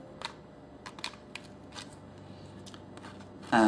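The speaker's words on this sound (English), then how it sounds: "once you have that first layer dried out, go ahead and start trimming it up" Scissors trim a dried first casting layer of a mask, making several short snipping and crinkling sounds spread irregularly across a quiet stretch, with a louder burst right at the end.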